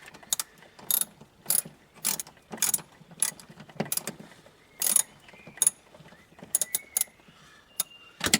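Ratchet wrench turning a bolt on an old Seat Ibiza 6K / VW Polo 6N, sounding in quick bursts of sharp clicking about a dozen times with short pauses, close and clear with no talking.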